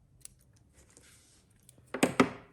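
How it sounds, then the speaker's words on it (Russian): Scissors snip crochet thread close by, two quick crisp cuts near the end after a moment of quiet handling, with no speech. "ниточку обрезаю"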